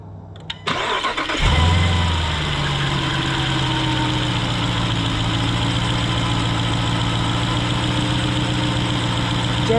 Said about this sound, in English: I'm still gonna start it before I put the last quart in, just to make sure